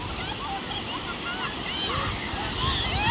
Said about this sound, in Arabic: ابو زوز هذاك الموج عله كلش